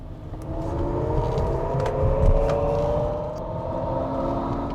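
A Toyota Mirai hydrogen fuel-cell car accelerates with a smooth, rising electric whir and soft rushing hum, heard from inside the car at moderate loudness with no talk.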